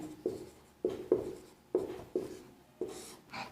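Chalk or pen writing out a math solution on a board, a series of sharp taps and short scratchy strokes in an irregular rhythm, close and alone.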